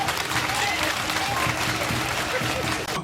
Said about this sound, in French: En acclamant le comité d'organisation